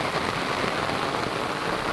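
Heavy monsoon downpour drums steadily and loudly on surfaces nearby, a dense, even hiss with no pauses and no voices.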